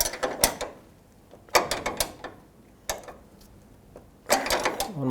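A bolt on a rivet nut on a 2008-2010 Ford F-250 tailgate damper is tightened with a ratchet, giving four short bursts of close, sharp ratcheting clicks separated by quiet pauses.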